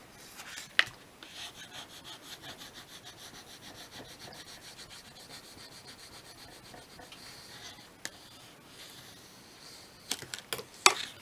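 Paper on a craft slider box is burnished with a tool, giving continuous soft rhythmic rubbing strokes close up, with a few sharp taps near the end.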